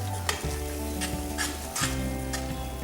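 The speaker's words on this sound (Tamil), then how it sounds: "இதை வந்து நல்லா கிளறி விட்டுக்கலாம்." Carrot laddu mixture with cardamom powder stirred in a hot pan, steady sizzling with repeated scraping strokes of the spoon, close and continuous.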